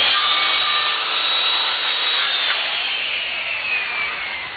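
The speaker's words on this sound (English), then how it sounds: "with the same 15-degree bevel on your saw blade, we're going to cut the legs" A power saw with its blade set to a 15-degree bevel cuts through wooden legs in a backyard woodshop, one continuous loud rasping whine lasting the whole few seconds.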